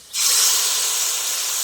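Marinated kuchia fish dropped into a pan of lightly fried onions sets off a sudden loud, steady sizzle that starts abruptly and hisses on without a break.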